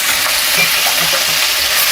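Spinach stirring and frying in a keema curry, a steady close sizzle of leaves in hot oil with soft scraping from the stirring, continuous throughout.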